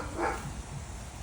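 A single short dog bark sounds faintly outdoors at a home garden, then only low background noise follows.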